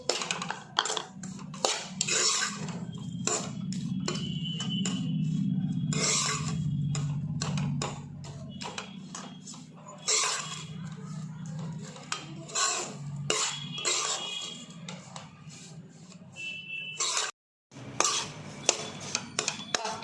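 Sweet powder being stirred into a magaj naru mixture in a pan, a steady close scraping and rubbing of utensil against metal that runs continuously with one brief gap.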